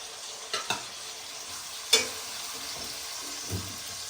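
Onions frying in ghee give a soft, steady sizzle, with a few sharp clinks and scrapes of stirring scattered over the few seconds.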